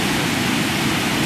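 Ocean waves wash onto a beach during the velvet season, a dense, steady roar of surf filling the short moment without any voices.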